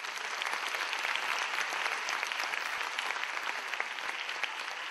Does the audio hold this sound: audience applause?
yes